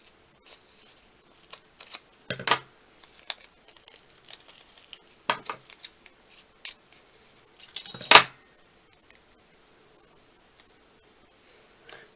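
Scissors cut a large paper piece in two during card making for a hot-air-balloon card: a sparse run of crisp snips and ticks with light paper crinkles, close and quiet between the cuts.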